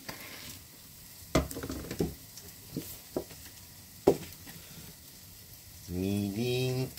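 Frozen yakitori sizzles in a pan, a soft, fairly quiet crackle broken by a few sharp clinks and scrapes, with a brief tonal hum near the end.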